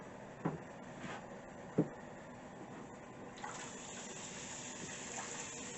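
Water gushes and pours as it is pumped from a tub through a bulkhead fitting up to a Camplux water heater, a soft continuous flow with a couple of faint knocks early and the stream growing fuller midway.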